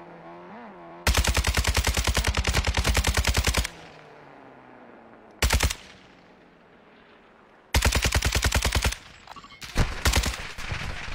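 Loud, rapid automatic gunfire from the player's weapon in an online shooter game comes in three long sustained bursts and a short one, separated by echoing gaps, followed by scattered shots at the end.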